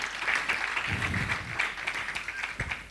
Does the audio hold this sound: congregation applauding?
yes